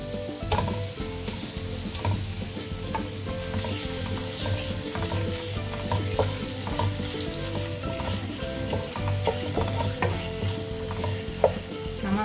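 Shrimp stir-fried in a hot pan for capcay, a steady loud sizzle and crackle with rhythmic scraping and clinks of a spatula against the wok throughout.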